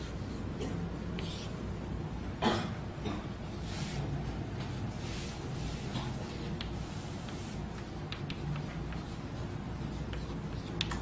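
Chalk or marker writing an example on a classroom board during a chemistry lecture: continuous scratchy strokes with occasional taps over steady room noise, no talking.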